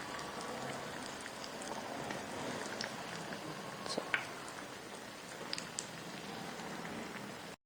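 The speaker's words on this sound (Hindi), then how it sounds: "इसको भी हमने सारी साइड्स इसकी फ्राई कर लेनी है।" Leftover roti frying in a pan, a soft, even sizzle with a few faint crackles and pops, close and steady without talk until it cuts off.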